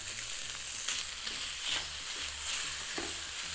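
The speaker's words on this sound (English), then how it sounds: "I'm gonna start by adding bacon into the preheated pan. And we're gonna brown it first." Bacon browning in a preheated pan for Ukrainian-style pierogi filling, a steady close sizzle and crackle with soft stirring, no talking.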